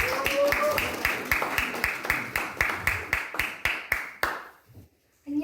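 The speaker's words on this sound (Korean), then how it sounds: "뜨거운 박수로 맞이해 주시기 바랍니다." Steady rhythmic hand clapping from an audience greeting a contestant at a Korean-language speaking contest in Moscow: about a dozen even, crisp beats that thin out and stop, with no voices over them.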